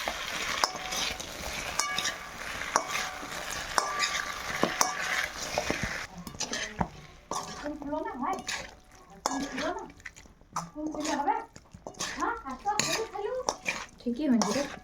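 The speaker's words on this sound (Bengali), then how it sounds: "এবারে আমরা পকোড়াগুলো দিয়ে দিচ্ছি। এটা সুন্দর করে ম্যাশ করতে হবে।" Fried pakoras being mashed and stirred in a pan: scraping, clinking strokes of a utensil over a soft sizzle, with voices talking over the later half.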